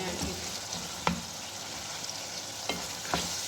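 Green chillies fry in a pan for baingan ka bharta, a steady close sizzle broken by a few sharp scraping clicks of stirring, with no talking.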